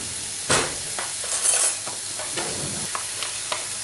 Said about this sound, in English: So the mushrooms have been cooking for about a minute now, and as you can see there's plenty of moisture in that pan.